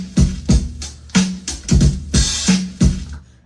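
Drum break from a song, punchy kick and snare hits with open hi-hat in a loose funky rhythm, loud and close, about eight strikes.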